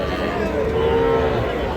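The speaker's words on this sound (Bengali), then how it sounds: "দর্শক, এই যে এখানে একটা ষাঁড় বাছুর দেখতেছি আমরা" A bull calf at the Raniganj cattle market gives one drawn-out, close moo in the middle, set against a steady murmur of market background noise.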